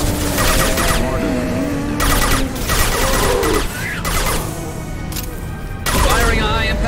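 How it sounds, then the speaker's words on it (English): Bursts of gunfire and mechanical weapon sounds from the Mass Effect video game, with a Geth sniper and high impact shots, loud and sustained with louder rapid volleys, under steady game voices and music. "Firing a high impact shot."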